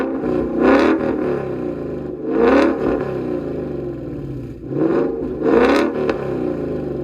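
A 2019 Mustang GT with a nitrous-fed V8 revs in repeated bursts, each swelling to a snarling peak and falling back to a burbling idle, loud and close with a brief gap between pulls.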